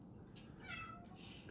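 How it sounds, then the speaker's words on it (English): Indoor cats meow softly, one or two short, faint calls at a distance, with no talking over them. "well, I got my cats meowing over here, sorry."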